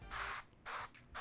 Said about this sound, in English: So let's give these a quick little spray.